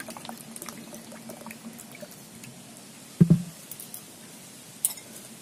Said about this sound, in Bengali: এখানে 1 বাটি মতন জল দিয়ে দেবো